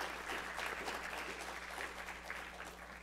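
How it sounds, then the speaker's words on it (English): An audience at an engineering talk claps for the speakers, a soft, steady patter of many hands heard at a distance over a low background hum. "Let's give a round of applause to"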